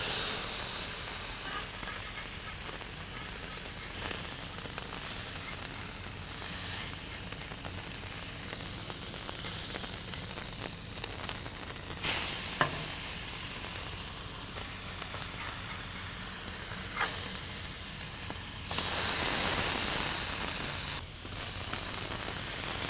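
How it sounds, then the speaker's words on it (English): A burger patty searing on an offset vertical smoker, a steady hissing sizzle with sharper bursts of spitting and steam now and then, rising louder near the end, no talk. "I'll take that burger patty, lay this on for a nice sear"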